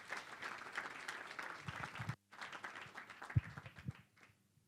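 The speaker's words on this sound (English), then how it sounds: "Give him a big round of applause." An audience at a creative community gathering applauds a speaker being introduced, with dense clapping that stops abruptly, then picks up again more thinly before dying away.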